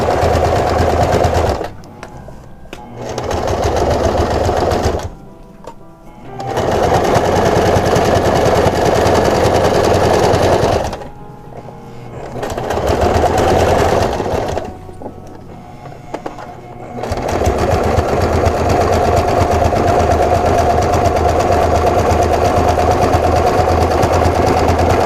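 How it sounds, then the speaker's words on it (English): Sewing machine stitching a zigzag to patch a pair of pants, running loud and close in several long bursts with short pauses between them, steady mechanical whirring throughout. "I'm doing the same zigzag stitch"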